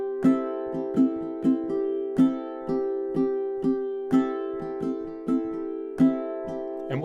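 Ukulele strummed in a steady rhythmic pattern, with index-finger downstrokes across all four strings and lighter up strums catching two strings, bright and close with clear repeating accents.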